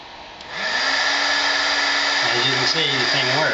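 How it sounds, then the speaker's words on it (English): A fan blows steadily to cool an overheated space heater thermostat, a broad continuous whoosh that starts softly, swells loud after half a second and holds, with a low hum shifting near the end. "we use a fan here to try to cool it down quickly"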